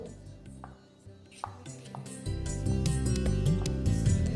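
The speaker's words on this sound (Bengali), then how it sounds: "প্রথমেই কেটে নিচ্ছি পেঁয়াজ।" A knife chops onion into medium pieces for chicken soup: a few scattered thuds and taps on a board, then they fade under louder background music.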